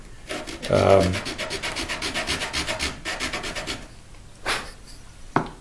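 The neck joint of a 1970 Gibson J-50 acoustic guitar is sanded by hand, giving rapid rhythmic back-and-forth rasping strokes, close and steady, followed by a pause and a couple of separate scrapes.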